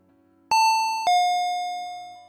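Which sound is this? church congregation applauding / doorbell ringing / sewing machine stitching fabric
doorbell ringing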